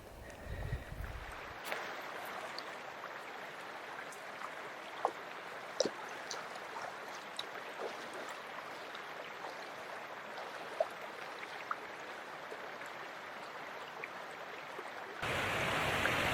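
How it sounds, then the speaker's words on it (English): Creek water on a forested hiking trail runs in a soft, continuous wash while a hiker crosses, faint and distant-sounding, with occasional small splashes and clicks and a louder rush at the very end. "So as you just saw, I just crossed this creek here."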